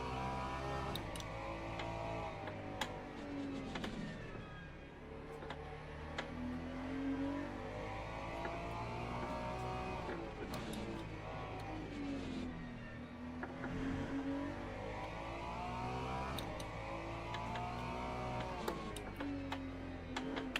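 A hypercar in the video game Gran Turismo 7 races around a forest circuit, its engine rising and falling in long revving sweeps with repeated upshifts, a continuous moderately loud drone with faint ticking clicks.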